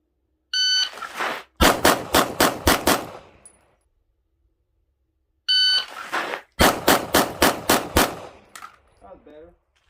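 A shot-timer buzzer beeps, then a rapid string of six loud SIG P320 pistol shots at a USPSA carry optics classifier; the beep-and-string sequence repeats a second time, close and clear.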